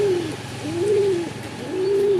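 Domestic pigeons coo in soft, rolling phrases repeated about three times, close and clear against a faint background hum.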